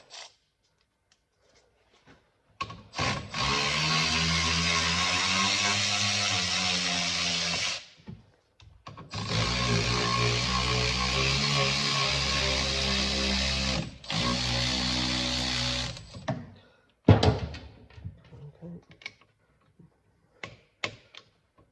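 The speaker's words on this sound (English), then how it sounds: "Get the battery ratchet." Battery-powered ratchet spinning out brake caliper bolts on a Ford Kuga rear brake, in three sustained whirring bursts of several seconds each with short gaps, followed by a few sharp clicks and knocks of handling, loud and close with no talk.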